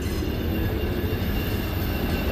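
A train rolls past in a scene from the 1978 film Superman, a loud, steady rumble with rail clatter filling the short stretch without a break.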